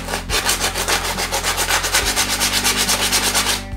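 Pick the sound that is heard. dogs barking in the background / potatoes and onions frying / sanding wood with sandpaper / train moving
sanding wood with sandpaper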